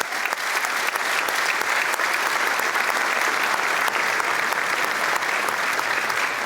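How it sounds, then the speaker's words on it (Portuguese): An audience at a communications industry conference applauds steadily for several seconds, a dense, even wash of clapping with no talk over it. "Por isso, uma salva de palmas a todos."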